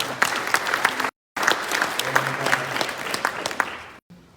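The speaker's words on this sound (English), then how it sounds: "You can clap for that." An audience at an American Legion Riders Department of Florida fall conference general session breaks into loud, sustained applause, dense clapping that cuts out briefly, resumes, then stops abruptly.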